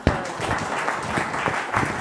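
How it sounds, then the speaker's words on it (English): Audience applause at a talk, a short burst of clapping that starts sharply and continues as an even patter for about two seconds, fairly close and steady, with no speech over it. "give them a round of applause"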